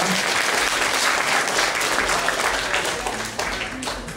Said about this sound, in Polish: Duże brawa właśnie też dla nich bo trwali do końca